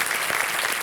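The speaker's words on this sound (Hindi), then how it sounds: "एक बार फिर जोरदार ताली आनंद कुमार जी के लिए" A studio audience applauds in a thick, continuous roar of clapping at a constant level, heard on its own without talk.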